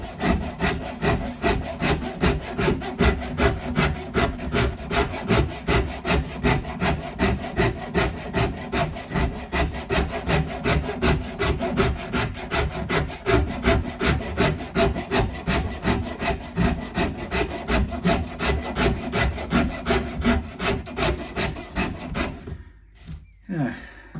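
A hand scraper works the wood of a Strat-style guitar neck being carved to profile, a rapid continuous rasping of dense back-and-forth strokes, close and loud, stopping just before the end.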